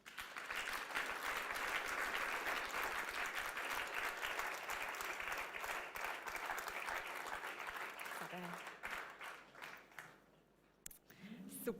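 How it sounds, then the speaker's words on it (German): Warm audience applause during a family talk event, a sustained wash of clapping that fades out toward the end as a voice briefly cuts in. "komm, wir geben Ihnen doch einen herzlichen Applaus"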